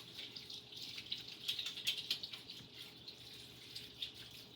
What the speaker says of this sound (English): I'm going to wash my hands so I can toss them